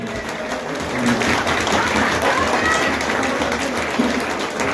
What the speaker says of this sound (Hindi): एक दफा दोबारा से तालियां बजाएं जी